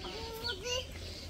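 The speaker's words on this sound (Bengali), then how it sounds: "এই যে মুরগি।" A Bangladeshi village hen, a local desi chicken, gives a short run of close, soft clucks with a wavering call lasting just over a second, and there is no speech.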